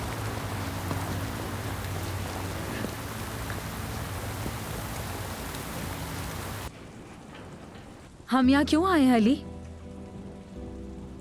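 Heavy rain pours down steadily as a dense, loud hiss for several seconds, then cuts off abruptly and a person speaks in the quieter space that follows.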